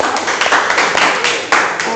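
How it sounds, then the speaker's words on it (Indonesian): A school class claps hands together, a busy patter of many small claps with sharper accents, voices mixing in underneath. "Oke, tepuk tangan buat semuanya."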